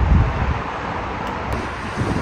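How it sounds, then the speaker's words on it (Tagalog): Gusty typhoon wind rushes and rumbles continuously, heavy low buffeting with a stronger burst at the start and again near the end, no talking. "Kung titignan nyo po, parang simpleng hangin lang pero napakalakas."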